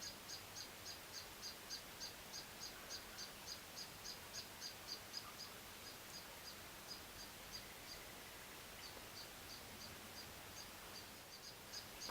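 A bird outdoors sings a steady run of repeated high chirps, evenly spaced and fairly faint, over a constant background hiss, heard from indoors with no talking.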